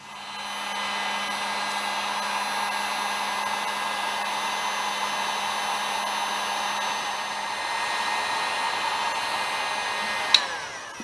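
A heat gun blows steadily while shrinking adhesive heat shrink tubing onto cable lugs for a 12V inverter install in a van, a constant whooshing drone with a whine, ending in a short click.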